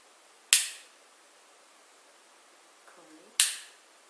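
Two crisp, isolated clicks from a Morini CM200 air pistol trigger, spaced about three seconds apart, close and clear against a quiet background.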